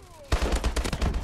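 Rapid automatic gunfire in the shooter video game Call of Duty: Advanced Warfare, a loud, close burst of about a dozen sharp shots in quick succession after a short quiet lead-in.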